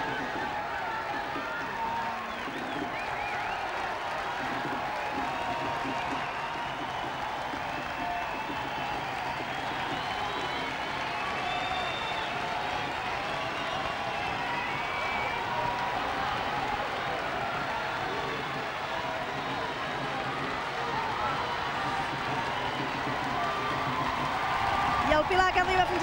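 A crowd gathered in Reus's town square in front of the town hall applauds a walking human tower pillar built by the Xiquets de Reus, a steady wash of clapping and cheering under continuous commentary.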